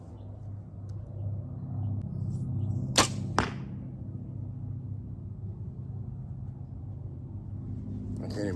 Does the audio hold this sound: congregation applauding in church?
no